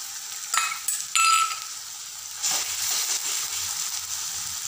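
Ginger, garlic and chili paste hits hot oil in a pan with a bright, loud sizzle that flares twice early, then settles into steady frying with stirring scrapes; no one speaks.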